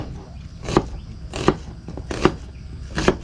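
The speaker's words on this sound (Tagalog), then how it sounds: "Mag-iwa akong sibuyas." Four evenly spaced knife strokes slicing an onion on a board, close and crisp, about one cut every three-quarters of a second, for fish paksiw.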